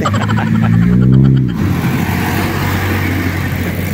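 A new 2024 Rusi Sparkle 150i scooter engine revs up quickly and loudly close by, then settles into a steady running drone.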